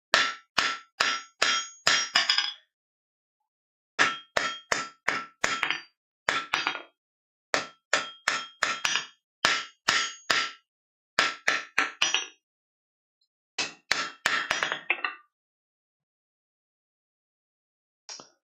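A hammer strikes hot steel as a blacksmith forges a small pocket knife, sharp metallic blows falling in quick clusters of four to six with short pauses between them, close and ringing, with no talk.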